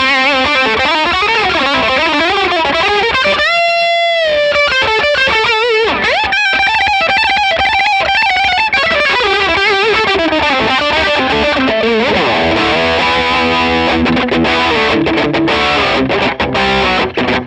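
A Mesa Boogie Mark V guitar amp on its extreme high-gain setting roars with loud, saturated distorted riffs and sustained chords, with a brief gap near the four-second mark before the heavy playing resumes.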